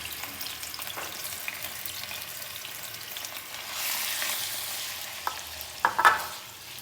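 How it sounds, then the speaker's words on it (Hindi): Marinated chicken frying in ghee in a kadai gives a steady sizzling hiss that swells louder midway. A few sharp utensil clicks follow near the end, and no one speaks. "घी के डाल के और मैरिनेट किया हुआ चिकन सारा उसके अंदर डाल देंगे"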